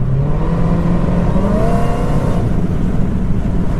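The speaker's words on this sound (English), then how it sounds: "It's definitely pulling a lot harder. That was about half throttle, maybe a little bit less, and it just pulled. It sounds like the exhaust is louder." A Dodge Hellcat fitted with a velocity stack intake pulls hard at about half throttle, the engine and loud exhaust rising in pitch over a few seconds, close and steady with no talking.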